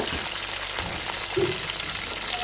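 Onions drop into hot oil in a pan for kofta biryani, producing a soft, steady sizzle and crackle, fairly faint, with no talking.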